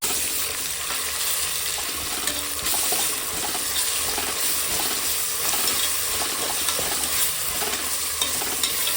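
Onions sautéing with ginger-garlic paste in a home kitchen pan, a steady broadband sizzle with soft stirring scrapes, continuous and fairly close with no voices.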